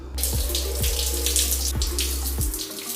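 Water runs steadily and loudly from a shower, a continuous hiss and splash that fills the whole stretch, with a low hum underneath and faint periodic knocks.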